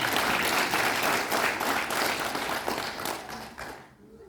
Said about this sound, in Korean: 실전 축하의 박수 부탁드립니다